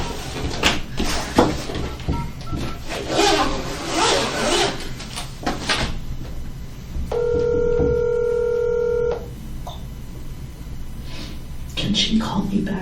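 A telephone call is dialed, with a loud, close run of push-button keypad tones in the middle. Rustling and handling noises and voices come before and after it.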